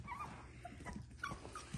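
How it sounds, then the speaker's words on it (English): Young puppies whine and whimper for attention, several soft, high yips and cries scattered over quiet room noise, close by. "We get a lot of that whining at this stage"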